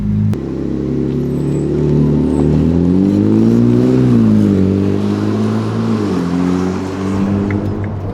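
Ferrari 296 GTS V6 plug-in hybrid spider accelerating on a circuit, its engine note rising steadily and loudly through the revs, dipping briefly and climbing again without a break.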